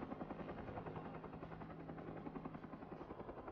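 A helicopter hovers while lifting timber logs on a long line above thick forest, its rotor producing a steady, rhythmic thudding drone with a constant low hum, moderately distant and uninterrupted.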